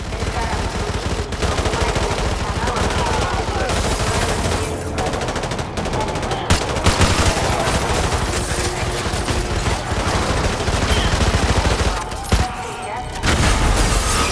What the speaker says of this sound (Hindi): सिविलियंस के लिए यहाँ पर इतनी भारी तगड़ी गन लाए थे एम टू फोर नाइन